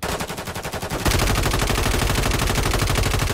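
Rapid automatic gunfire from an HRM 9 submachine gun in the video game Warzone 3 (MW3): a sparser burst of shots, then a loud, dense stream of fire that continues unbroken to the end, with no talking.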